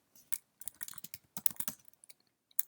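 Typing a command on a computer keyboard, a quick irregular run of close, crisp key clicks with short pauses between bursts.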